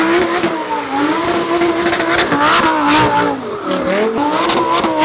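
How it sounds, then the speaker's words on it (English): A Lamborghini Gallardo doing donuts revs hard and loud and close, the engine note rising and falling in repeated surges with traces of tire squeal, going on without a break. "So we got a Lamborghini Gallardo doing donuts"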